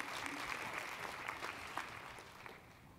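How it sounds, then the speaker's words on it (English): Participants at a Tableau Prep hands-on training session give a quiet round of applause, faint scattered clapping that gradually tapers off. "I want to give a huge round of applause to my awesome helpers"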